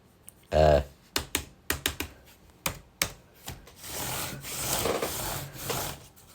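Keys on an old laptop keyboard tapped in a quick series of sharp, close clicks, followed by a softer rubbing, scraping noise.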